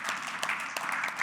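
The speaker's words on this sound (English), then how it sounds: "I just want to give a round of applause to these guys" A conference audience at AHR Vegas 2026 applauds after a session on retrofitting methods, giving dense, even clapping that holds steady throughout at a moderate, fairly close level.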